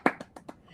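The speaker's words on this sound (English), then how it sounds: "That's why I'm clapping." Hands clap four times in quick, uneven succession indoors, the first clap sharpest and loudest and the rest softer, with no talking over them.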